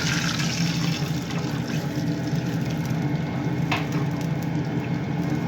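Water poured into a cookie mixture in a hot pan, a steady hissing sizzle with faint bubbling and a brief clink, continuous at moderate level with no talking.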